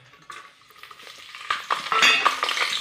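Garlic frying in a few spoonfuls of hot oil for dhaba-style khichdi, a sizzle that grows louder over a few seconds with scraping and stirring clinks of a utensil against the pan.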